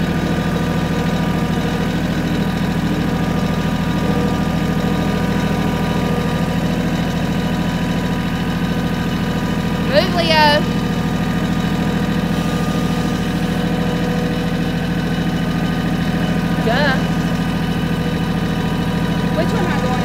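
A tractor engine runs steadily while driving, a constant loud mid-to-low drone with vibration. Brief faint tones sound over it partway through.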